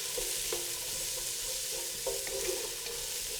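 Celery and garlic sizzle and crackle steadily as they stir-fry in hot oil, with occasional clinks of a utensil stirring the pan, no voices.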